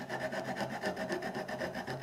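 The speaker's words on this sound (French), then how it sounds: "on finit le travail éventuellement avec un petit coup de scie" Rhythmic back-and-forth rasping of a hand saw cutting a wooden miter joint for a door, steady regular strokes close by, with no talking.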